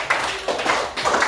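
Brief classroom applause for a student group: a few short bursts of close, loud hand clapping in quick succession, without talk.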